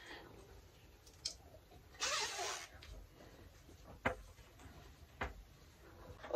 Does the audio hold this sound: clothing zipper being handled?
yes